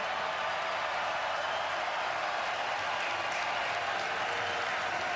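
A crowd at a 2026 NFL Draft watch event at Seahawks headquarters in Seattle cheers and applauds steadily, a dense, continuous roar of clapping and voices holding at full loudness throughout.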